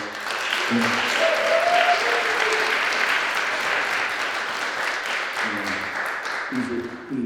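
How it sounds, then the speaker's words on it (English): Audience applause for Richard at a community justice event, sustained broadband clapping from a crowd over several seconds with some voices and cheers mixed in, fading slightly toward the end. "Give Richard a round of applause"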